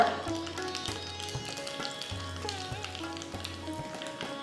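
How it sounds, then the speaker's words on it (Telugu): Mustard seeds spluttering in hot oil on a stove for ragi ambali and curd rice, a steady close sizzle with scattered crackles running throughout, no talking. "ఆవాలు చిట్టపట్లాడుతుంది"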